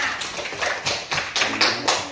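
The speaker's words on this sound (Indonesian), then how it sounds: "Tepuk tangan dulu untuk semuanya." A classroom of students claps hands together in a short burst of firm, rhythmic claps, close and fairly loud.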